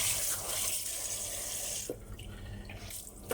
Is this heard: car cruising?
no